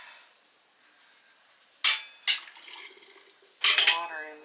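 Boiling water splashes and pours into glass canning jars set out beside a wood stove: a quiet start, then three loud bursts of clinking and splashing with ringing glass between them.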